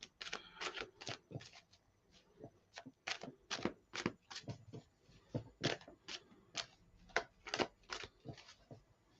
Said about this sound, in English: they didn't want me to stop shuffling for some reason